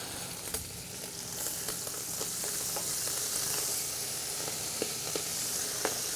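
Bacon and cos lettuce sizzling in a MultiPlo cooker as they are stirred together, a continuous hissing fry with scattered sharp taps and scrapes of the utensil, fairly close and quiet overall, no voices.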